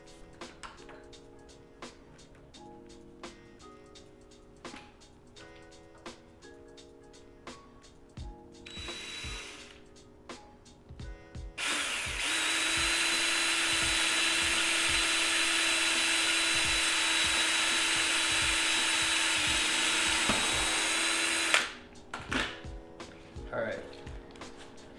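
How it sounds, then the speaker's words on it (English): A drill bores through a Lexan polycarbonate window and a mounting tab together in a K24-swapped Civic EK, a steady loud whine lasting about ten seconds after scattered ratcheting clicks and tool handling. "I'm gonna drill into the Lexan window and the tab at the same time"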